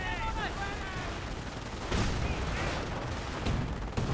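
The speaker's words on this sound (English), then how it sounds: "Demolition charge here explodes, takes out the Panzer Grenadiers." Explosions and rapid gunfire in the World War II strategy game Company of Heroes, including a demolition charge going off, form a dense, continuous roar of battle with overlapping blasts and crackling shots.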